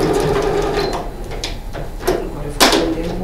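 A sewing machine running a safety seam, a basting-like stitch on a medicine-pouch sewing project, whirs close by in short bursts with clicks and knocks from the fabric being handled in between.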